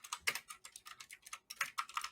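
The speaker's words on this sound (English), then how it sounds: "What is bro typing?" Rapid typing on a computer keyboard, with quick clusters of light key clicks separated by short pauses, close and fairly quiet.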